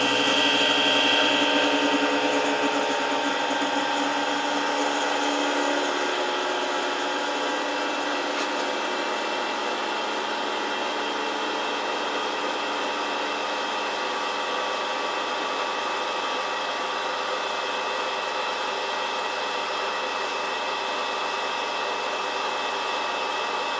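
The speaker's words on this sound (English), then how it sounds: "This is my Henkelman Falcon 52 vac packing machine." A Henkelman Falcon 52 vacuum packing machine runs on six food trays with a steady, loud mechanical hum and whir. It holds unbroken from start to finish and eases off slightly after the first few seconds.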